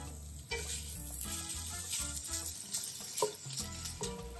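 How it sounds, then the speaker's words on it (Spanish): Bacon sizzles in a spoonful of oil in a pan for lasagna, a close, even crackling hiss with a couple of brief stirring knocks and no voices. "Y vamos a sofreír un poquito el bacon que suelte su grasita"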